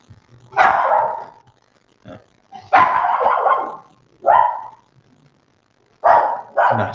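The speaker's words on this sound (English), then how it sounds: "He is a small vicious little pupper." A small dog barks in short sharp bursts, four or five loud yapping clusters with brief pauses between them, close by and with no talk over them.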